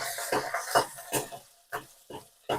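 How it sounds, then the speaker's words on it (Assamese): Garlic frying in a pan after onions and coriander, a sequence of short scraping stirs and soft sizzles in uneven bursts, close and moderately loud with no talk. "ইয়াত নহৰুখিনি ভাজো।"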